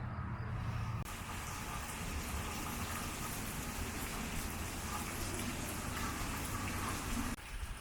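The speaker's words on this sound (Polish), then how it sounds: "No i dzisiaj mam taki deszczowy dzień, który spędzam pod wiatą" Steady rain drums on a shelter roof on a rainy day along a cycling route through Iowa and Nebraska, a dense, even hiss that fills the whole stretch without pause and with no voices.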